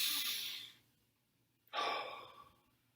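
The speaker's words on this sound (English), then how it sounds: "The first step is just to take a breath." Two soft, deep breaths, an airy inhale then a slow exhale after a short pause, close and quiet with no talking.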